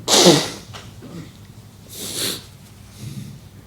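A single sneeze bursts out near the start, followed by a couple of softer breathy sniffs or snorts at close range in an otherwise quiet room.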